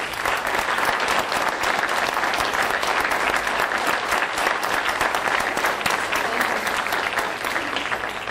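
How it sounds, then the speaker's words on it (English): Large audience at a live event applauding network partners, loud continuous clapping from many hands held at an even, sustained level for several seconds with no talk over it. "So let's just give them a big round of applause."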